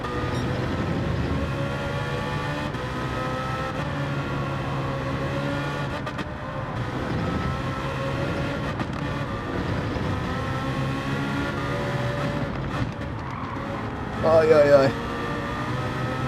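Race car engine in Gran Turismo 7 during lobby racing, a steady droning engine note held at high revs with slight pitch shifts, loud and continuous, with a brief louder burst near the end.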